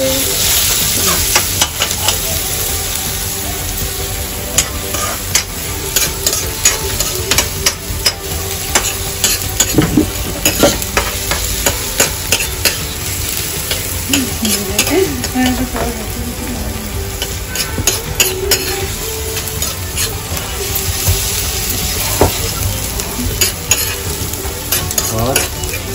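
Chopped onions fry in a pan at home, a continuous close sizzle broken by frequent clicks and scrapes of a spatula stirring them, going on steadily without anyone speaking.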